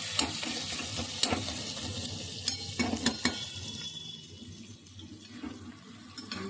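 Hands rinse under a running kitchen tap beside a cooking pan, a steady close water stream with splashing and a few sharp clinks and knocks, fading softer toward the end with no one speaking.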